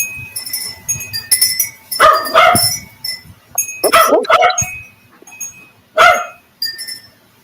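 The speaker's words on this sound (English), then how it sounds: "Your doggy's at it again" A pet dog barks loudly and close by in bursts. Each burst is a cluster of sharp barks, with short quiet gaps between them and faint clinks in the background.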